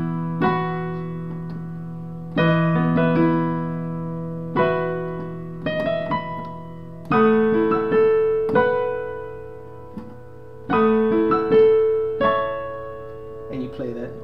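Piano chords and a melody from a song, with sustained harmonies struck in regular phrases and a steady, moderately loud pattern repeating through the passage, with no voice.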